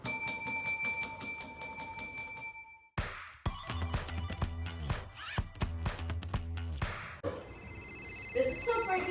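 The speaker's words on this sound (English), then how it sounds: "it's the Booty Bell" A bell sound effect rings out loud and bright at first, its tones fading away. A run of rhythmic clanging strikes follows, and then more ringing tones.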